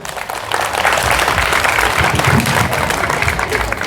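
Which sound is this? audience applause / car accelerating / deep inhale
audience applause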